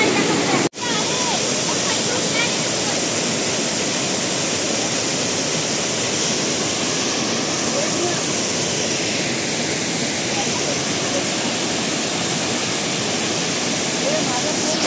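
The Arjunkada waterfall in Kharghar makes a constant loud roar of falling water, dense and unbroken. A sharp knock sounds near the start.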